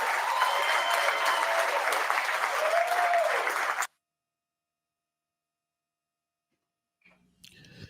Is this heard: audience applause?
yes